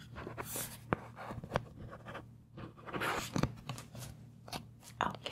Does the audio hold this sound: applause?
no